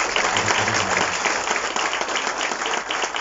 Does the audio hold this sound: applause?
yes